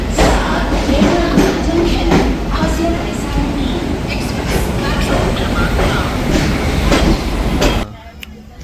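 A Konkan Railway train from Mumbai to Ratnagiri rumbles steadily along the rails with a rattling clatter for several seconds before the noise cuts off abruptly.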